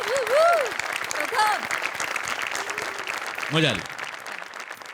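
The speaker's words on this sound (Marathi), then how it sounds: "प्रथमेशसाठी जोरदार टाळ्या व्हायला." Studio audience applause on a Marathi comedy show, a dense steady clapping bed running throughout, while a presenter talks and others react over it, with brief exclaimed voices and laughter.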